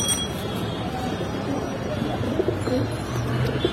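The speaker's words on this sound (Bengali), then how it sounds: "এখানে এখানে কালো বাঘা কবুতর আছে," Black Bagha Giribaz pigeons coo softly and repeatedly in a close cage, with a steady background of low murmuring voices and general bustle.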